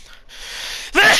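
A single sharp human sneeze bursts out near the end after a quiet, breathy inhale, close and loud.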